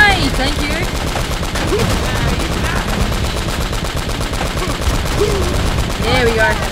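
Sustained automatic gunfire from a firefight in the action game Uncharted: Drake's Fortune, a loud, dense rattle of shots that barely lets up.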